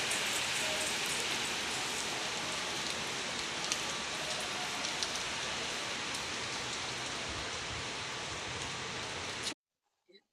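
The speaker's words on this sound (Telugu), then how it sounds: "అమ్మో ఏం వర్షం అసలు రోజు వర్షమే అనమాట" Heavy rain pours down steadily in a dense, unbroken hiss close by, holding at an even loudness for about nine and a half seconds before cutting off abruptly.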